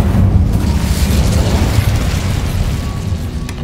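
A sustained, loud roaring blast of magical fire from the Incendio spell in the wizarding game Hogwarts Legacy, a dense rumbling whoosh that holds steady for several seconds without speech.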